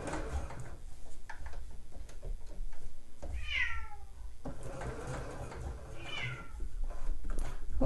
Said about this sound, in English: What are you meowing about, Pusscat?